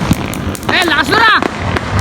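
New Year firecrackers pop and crackle close by in a short burst, mixed with excited voices talking and shouting over the blasts.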